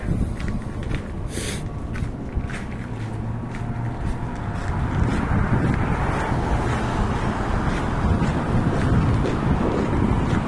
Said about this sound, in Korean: 바람이 진짜 오늘 많이 부네요